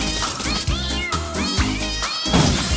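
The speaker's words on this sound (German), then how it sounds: "ich schicke die Katze jetzt weg." A cat meows several times in quick succession, close and loud, each cry rising and falling.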